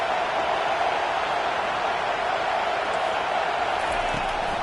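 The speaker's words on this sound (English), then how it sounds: "listen to this crowd noise. This stadium is vibrating." A packed football stadium crowd roars in a constant, dense wash of noise that never lets up, loud and distant-sounding, with no single voice standing out.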